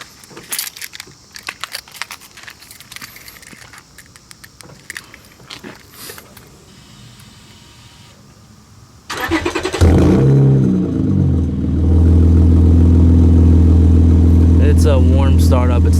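A warm 7th-generation JDM Honda Accord V6 starts after some handling and clicks, then settles into a loud, steady, close idle that holds to the end.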